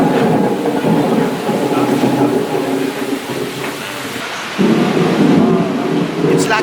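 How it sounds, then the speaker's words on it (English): Thunderstorm effect in a walk-through light art installation on a London winter light trail: a loud, continuous rumbling roar like rolling thunder and rain, with a swell near the end. "So this is Sky on Earth, and we're about to walk through a thunderstorm."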